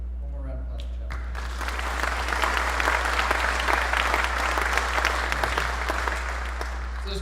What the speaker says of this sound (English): one more round of applause for Chaplain